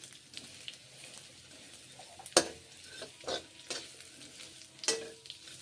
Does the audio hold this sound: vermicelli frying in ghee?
yes